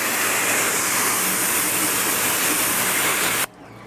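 A pressure washer or hose rinses an Audi Q2 S-Line during a car detail, giving a loud, steady close-up hiss of spraying water that cuts off abruptly near the end.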